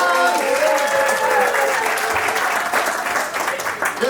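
A theater audience gives sustained applause at a magic floor show, a full, even clatter of many hands that softens a little toward the close.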